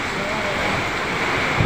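Strong typhoon wind during Typhoon Odette roars in a continuous, loud rush of broadband noise, buffeting the microphone with no voices heard.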